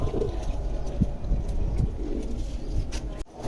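Racing pigeons kept for flying coo softly in a loft, low murmuring calls repeating under steady background noise, with a brief dip near the end.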